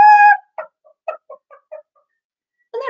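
A voice imitates chickens on a busy farm with a series of short, quiet clucks spread over about a second and a half, each bursting briefly, between louder bits of speech at the start and the end.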